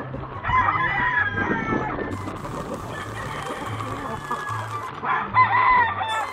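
A green-legged rooster crows loudly nearby, then clucks, crowing again near the end over a low repeating hum, on a farm.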